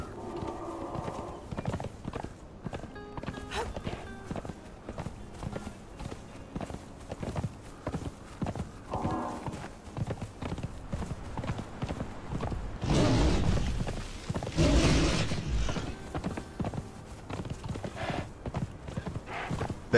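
Horse hooves clip-clop steadily through a fantasy survival game world in Conan Exiles on the Isle of Siptah, a continuous walking rhythm with a brief louder stretch of movement midway and no talk over it.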